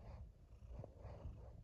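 A cat purrs steadily while lying on a person's lap, a close, low, continuous rumble with soft rhythmic pulses of breath and no talking.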